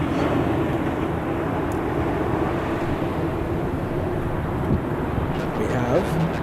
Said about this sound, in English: 787 flying to Japan